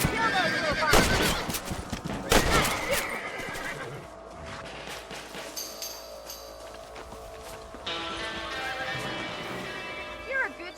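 Horses neigh and whinny in a Western open-world game, Red Dead Redemption, with hoof clip-clops and a few distant gunshots, while characters talk over the scene.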